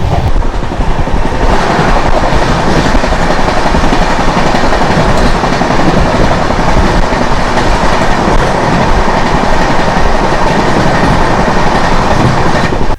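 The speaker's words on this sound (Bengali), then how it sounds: "এবার আমাদের সাথে দেখা হবে ট্রেন নাম্বার বাইশ হাজার নশো সাতষট্টি আহমেদাবাদ প্রয়াগরাজ সুপারফাস্ট এক্সপ্রেসের সাথে" Train 22967, the Ahmedabad Prayagraj Superfast Express, thunders past at close range with loud, unbroken rumble and clattering wheels on the rails, no voices.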